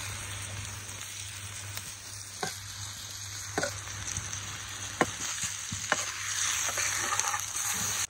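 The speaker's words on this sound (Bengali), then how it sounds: "কচু ভেজে নিচ্ছি" Taro (kochu) frying in a pan, a steady close sizzle with scattered sharp clicks and scrapes of stirring, growing slightly louder toward the end; no speech.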